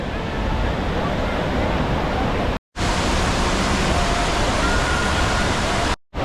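Steady, loud broadband roar of rushing water at Devkund Waterfall in Maharashtra, continuous and dense, broken by two brief silent gaps.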